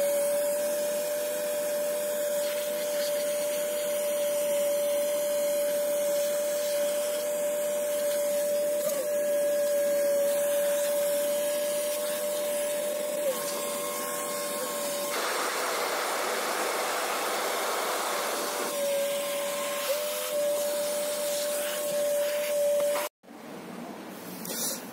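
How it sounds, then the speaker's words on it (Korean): A vacuum cleaner runs steadily and loudly while a Feima coffee grinder is cleaned with a toothpick, a constant whine and rush that briefly shifts in tone before cutting off near the end. "그래서 아까처럼 청소기를 틀어놓고 이쑤시개로"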